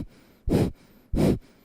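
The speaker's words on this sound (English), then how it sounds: "And breath of fire if you can." Forceful breaths from a Kundalini yoga breath of fire practice, two loud breathy bursts about half a second apart with quiet breathing between, close and with no talking.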